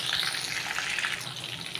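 Cumin and fennel seeds hitting hot oil left after frying chicken, giving a continuous bright hissing sizzle that fills the short span with no talk over it.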